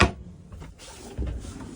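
Kitchen cabinet door beneath a stainless steel sink and Corian countertop opens and shuts, with a soft knock at the start and a thud near the end, close and fairly quiet.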